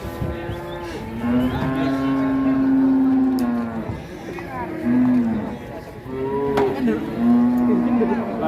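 Cattle at the busy Ngawi livestock market in East Java give repeated long, loud moos, three drawn-out calls close by over a steady background of crowd and market noise.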